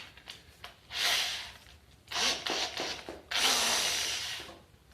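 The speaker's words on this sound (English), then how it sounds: "Then grabbing my drill and getting stuck in the wires." A power drill with a long flexible attachment whirs in three bursts of increasing length inside painted copper tubing, with a rough rubbing, grinding texture and short pauses between, loud and close.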